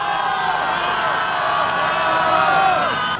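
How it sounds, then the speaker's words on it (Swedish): Large crowd on Kungsgatan in Stockholm cheering at news of victory, a loud, steady roar of many voices with whoops and shouts, close and continuous throughout. "Alla jublar och är glada."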